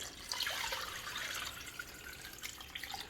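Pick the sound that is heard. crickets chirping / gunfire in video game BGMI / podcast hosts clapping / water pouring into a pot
water pouring into a pot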